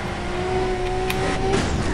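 A Porsche in Need for Speed Undercover roars past, its engine note holding steady then swelling briefly as it goes by, loud and close with a faint squeal of tyres.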